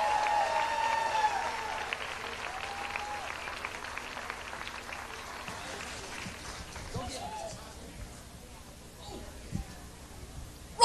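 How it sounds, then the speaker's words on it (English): Audience applause at a carnival show as a soca performer walks up to the stage, a steady crowd clapping under a busy background with some voices, thinning toward the end. "Give him a big round of applause, folks, as he makes his way up to the stage."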